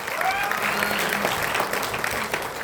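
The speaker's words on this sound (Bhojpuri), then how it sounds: "सही मायने में तो कुलदीप खातिन सबके ताली बजावे के चाहिए" An audience applauds at the Sabrang award show, a live event in Mumbai, with a thick, continuous wash of clapping from a large crowd, loud and steady, with faint voices mixed in.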